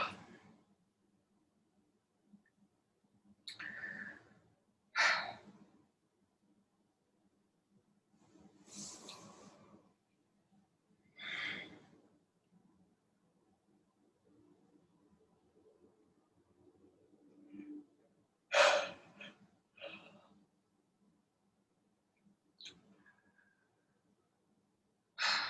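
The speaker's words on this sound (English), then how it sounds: "Breathing in through your mouth and out." Slow, deep pranayama breaths drawn in through the mouth and let out, several airy whooshes spaced a few seconds apart with quiet gaps, close and soft over a faint low hum.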